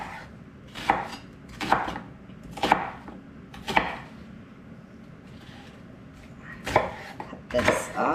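A knife chops fire cider ingredients on a cutting board, about eight sharp board strikes in uneven bursts, close and fairly loud, with a quiet pause midway and no talking.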